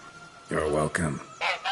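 A goose in the video game Witcher 3: Blood and Wine honks three times in quick succession, close and loud, the last call higher and shorter.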